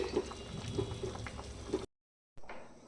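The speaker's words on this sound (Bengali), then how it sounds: "এইখানে আমি ডিম সেদ্ধ করতে বসিয়ে দিয়েছি" Eggs boiling in a pot of water, a soft continuous bubbling with small pops, quiet and close, broken by a brief moment of silence before the bubbling resumes.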